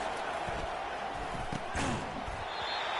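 Stadium crowd noise from a college football video game, Georgia versus Oregon, a broad steady roar filling the whole clip with a brief swell near the middle.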